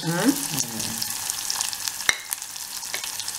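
Onions sautéing in plenty of oil for okra tamarind curry, a lively sizzle broken by a scraping stir at the start and several sharp clinks of a spoon against the pan.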